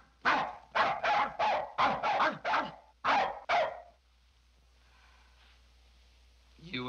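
A dog barks close by in a quick run of about nine sharp barks, with a brief pause partway through, then falls silent as faint background noise remains.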